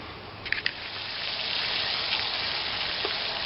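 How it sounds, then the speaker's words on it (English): Bacon fries on a wood-fired rocket stove, giving a steady, fairly soft sizzling hiss with a few brief pops near the start. "He's making bacon."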